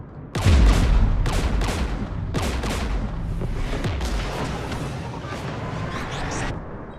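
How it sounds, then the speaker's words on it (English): Heavy gunfire and booming blasts from the video game Mass Effect 3 in a fight with Geth forces, a loud opening burst followed by repeated bursts and a dense rumbling barrage that holds steady before cutting off. "We're taking fire."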